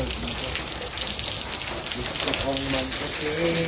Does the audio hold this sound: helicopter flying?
no